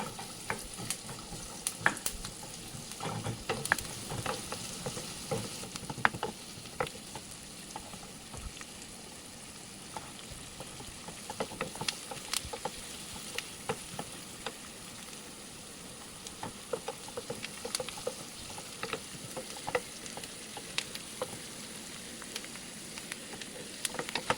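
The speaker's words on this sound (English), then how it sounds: "So I will stir fry this until it becomes translucent." Thick-cut onion stir-fried in a pan until translucent, a steady close sizzle of frying with scraping stirs and clicks running throughout, with no talk.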